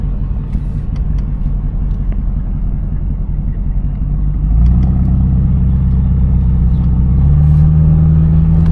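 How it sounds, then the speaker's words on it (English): Low steady exhaust rumble from a 1981 Cadillac Eldorado, heard close from inside, deepening partway through as the engine note settles into a heavier drone. "it's got a little bit of a rumble to it that that I'm not accustomed to"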